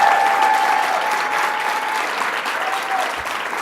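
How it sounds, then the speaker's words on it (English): Loud, sustained applause from an audience at a campaign event at FIT, a dense clapping roar that fades slightly toward the end. "Let's give her another round of applause"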